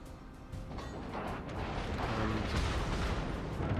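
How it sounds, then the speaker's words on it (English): Naval gunfire from the battleship Nagato in World of Warships: a dense, continuous barrage of deep booms and rumbling blasts that swells slightly louder as it goes, with no talking. "Nagato is firing at us."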